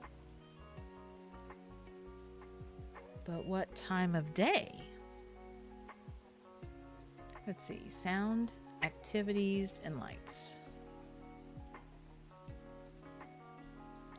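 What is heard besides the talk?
rain ambience in video game SpiritCity: Lofi Sessions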